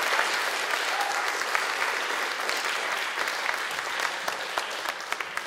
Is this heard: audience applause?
yes